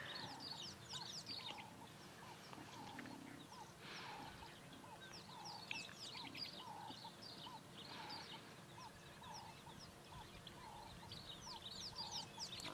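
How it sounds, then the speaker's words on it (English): Small birds chirp and call repeatedly at sunrise in the Sabi Sand bush on safari, a faint, busy chorus of short tweets at a distance over a low steady ambience, with no talking. "So you can hear all the little birds chirping as well."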